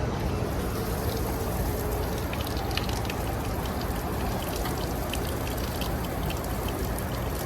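Hot water from a propane on-demand RV water heater runs steadily from a tap, a continuous splashing rush that stays even and fairly loud throughout.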